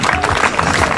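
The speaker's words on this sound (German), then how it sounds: "nochmal einen donnernden Applaus für die beiden Akteure" A crowd of spectators applauds at a baseball game, dense and steady clapping that fills the whole moment at close, loud level.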